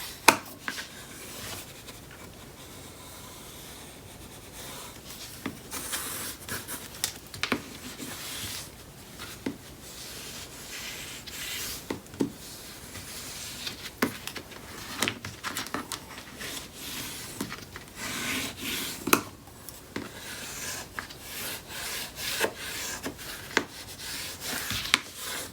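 Close, quiet rubbing and scraping of paper as a flange is worked into the spine hinge of a mini album, with irregular soft strokes and occasional sharper taps.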